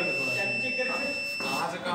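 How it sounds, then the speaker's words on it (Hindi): Microwave oven buzzer being tested during a repair for no heating, sounding as a steady electronic tone that continues under someone talking throughout. "सबसे पहले हम बजर चेक करते हैं।"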